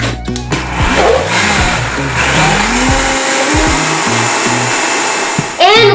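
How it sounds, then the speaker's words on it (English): A blender whirs at full power through a strawberry no-churn ice cream mixture, loud and close, the motor pitch wavering as the load shifts, with a brief stop near the start and a fresh surge at the end. "We're going to give it a quick mix and then put it back to blending."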